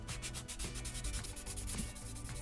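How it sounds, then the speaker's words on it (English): Close, rhythmic rasping strokes of a sanding block smoothing filler on a model kit's shoulder armour, repeating back and forth at a steady pace. "go through my different grits of sanding block here and get it down to a nicer surface"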